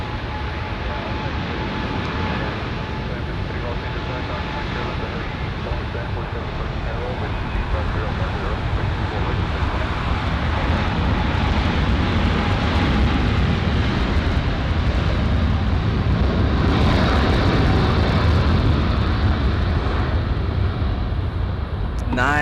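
A Boeing 747 takes off at LAX, a broad jet roar that holds strong and steady and swells slightly as it climbs, with a person talking over it.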